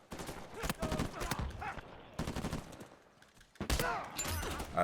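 Uncharted 4 multiplayer gunfire: bursts of rapid, heavy-recoil shots in clustered volleys separated by brief pauses, loud and close, with sharp cracks and some background game noise.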